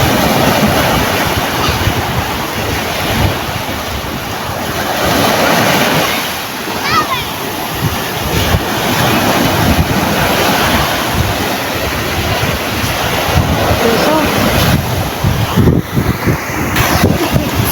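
Sea waves wash and surge continuously on a beach, a loud, broad roar mixed with wind buffeting the microphone, while people talk over it.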